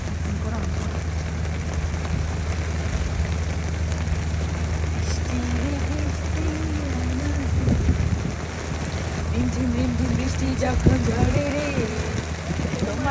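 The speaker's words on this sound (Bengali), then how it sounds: "অনেক সুন্দর বৃষ্টি" Steady heavy rainfall on an outdoor bridge, a constant close wash of drops under people singing and talking in the foreground.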